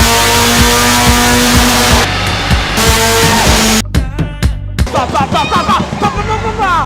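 A loud 186-horsepower car engine revving hard and accelerating through sand, with roaring bursts and rough mechanical noise, close up.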